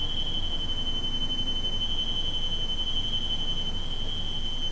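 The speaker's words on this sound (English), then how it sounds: "holy crap, I think the fire alarm went off" A fire alarm sounds as a continuous, piercing electronic tone that holds steady throughout over a noisy background, with no talking.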